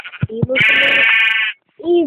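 Sheep bleating in a video game; a few short clipped bleats followed by a long, loud, wavering bleat, then a brief pause and another bleat starting at the end, close and clear with no background.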